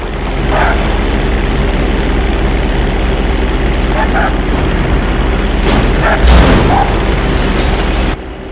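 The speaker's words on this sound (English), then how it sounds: "You're going to practice an emergency landing on that bridge straight ahead." A light propeller plane in GTA V makes an emergency landing on a road bridge, its engine droning loud and steady, with a heavy thump of touchdown near the end before the noise drops away.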